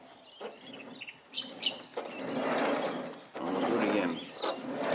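The sliding door of a Toyota Tarago (Previa/Estima, TCR10) rolling along its newly replaced middle and top hinges, a close mechanical rattle and ratcheting with a couple of sharp clicks and two sustained rolling runs.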